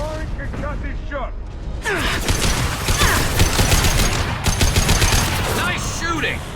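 Rapid gunfire rattles in the sci-fi shooter Mass Effect 2, dense bursts of weapon shots and impacts mixed with voices talking over the combat.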